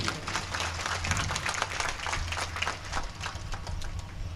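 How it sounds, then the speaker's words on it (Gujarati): A crowd at a Bhagwat Katha religious gathering applauds the musicians with sustained, dense clapping that stays fairly even from start to finish. "સંગીત મિત્રોનું આપણે તાળીઓથી અભિવાદન કરીએ"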